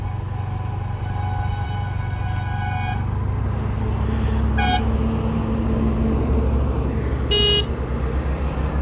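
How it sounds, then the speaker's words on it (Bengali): A bus honks its horn from behind a moving motorcycle on the bypass road toward Chanchal, giving a few short toots over steady engine and wind noise and road traffic. "বাসটা পেছন থেকে হর্ন দিচ্ছিল"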